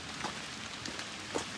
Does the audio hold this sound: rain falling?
yes